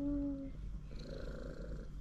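A domestic cat purrs close by, a soft, low continuous rumble that holds steady under a brief vocal sound at the start.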